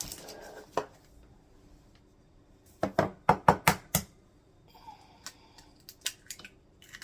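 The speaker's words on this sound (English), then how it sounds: "we're going to take and crack 6 eggs" Six eggs cracked in a home kitchen during family dinner prep, heard as a quick run of sharp, close taps and cracks clustered together, with fainter scattered knocks and clinks before and after.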